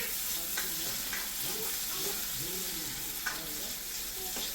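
Chopped onion sautéing in a pan with oil, a steady close sizzle with scraping stirs throughout, as it cooks toward red-brown for a spiced moth bean (matki) dal.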